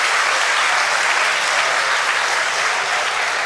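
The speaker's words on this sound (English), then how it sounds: "Thank you for clapping against him" A live talk-show audience breaks into loud, steady applause, a dense, continuous wash of clapping that holds for the whole stretch without any talk.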